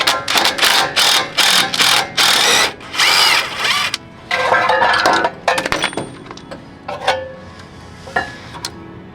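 Power tool loosening a 12mm bolt that holds the brake line on a Lexus GX470 during wheel bearing work: loud, close whirring bursts in a stop-start rhythm, tapering to shorter, fainter pulses and a few clinks.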